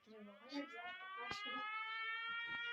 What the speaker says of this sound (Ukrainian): Увага! Повітряна тривога. Пройдіть найближче укриття.